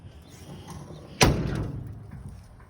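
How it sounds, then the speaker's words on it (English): A single solid car door slam, sharp and close, with a short thud and ringing decay over a low background rumble; the door fails to stay latched. "That door won't stay shut, but it looks like it will."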